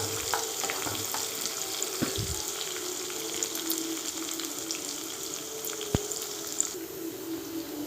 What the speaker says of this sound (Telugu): ఆయిల్, ఆనియన్స్, తాలింపు గింజలు వేసానండి. మంచిగా ఫ్రై అవుతుంది కదా.